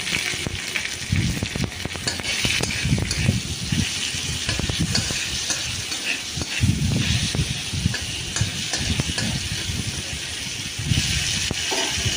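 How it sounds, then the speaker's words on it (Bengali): Tomatoes cooking down with salt in a pan, a loud, steady close sizzle and hiss with low bubbling and occasional stirring scrapes throughout. "সব টমেটোগুলো দিয়ে তারপর এটাকে একটু নুন দিয়ে নরম করে নেবো"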